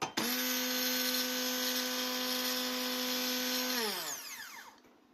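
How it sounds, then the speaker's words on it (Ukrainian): A Tefal HB656838 hand blender runs at power with a loud, steady high-pitched whine for about four seconds, then its pitch drops sharply as the motor winds down to silence. "Блендер дуже класний, потужний."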